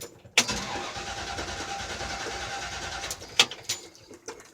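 A 1969 Chevy C10 pickup with a 350 engine and 350 Turbo transmission cranks briefly with a sharp start-up burst, then settles into a steady close-range idle with a few louder revs near the end; birds coo faintly.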